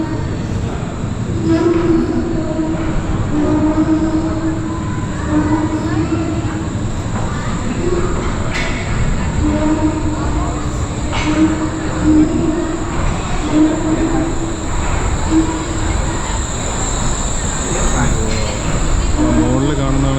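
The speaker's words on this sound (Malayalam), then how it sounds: "മിക്കവാറും ഈ ട്രെയിനായിരിക്കും അവിടെ പോയി കറങ്ങി നമ്മുടെ അടുത്തോട്ട് വരുന്നത്." The Wuppertal suspension railway in Germany, with a train approaching as a loud, steady rumble and rattle. Repeated squealing tones rise and fall over about twenty seconds, and there is faint background talk.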